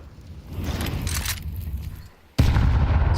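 A grenade bursts in Counter-Strike on the Dust 2 map during an IEM Krakow match: a sudden loud, broadband blast near the end cuts in after a quieter stretch of gunfire-like crackle, then rumbles on at high level.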